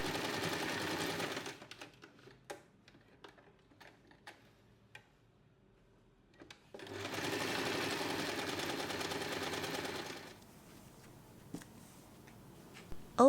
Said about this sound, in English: We'll sew along the edge.